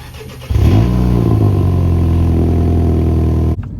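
A car engine turns over and catches, then holds a loud, steady revving drone close by for about three seconds before cutting off abruptly.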